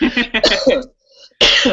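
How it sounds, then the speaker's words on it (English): A person clears their throat several times in short rough bursts, close and loud, followed by a brief pause and another harsh throaty burst. "I was just clearing my throat."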